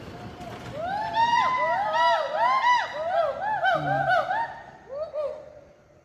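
A gibbon calls from a tall jungle tree in a loud series of rising and falling whooping hoots, swelling into a fast chorus before trailing off.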